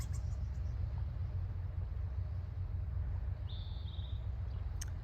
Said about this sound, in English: I hear the sound of a tugboat engine.